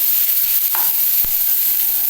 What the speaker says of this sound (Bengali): প্রথমে কারি পাতাটা পোড়ন দিয়ে দিয়েছি ভাত ভাজার মধ্যে কারি পাতাটা বেশি ভালো লাগে রসুন কুচিটাও দিয়ে দিলাম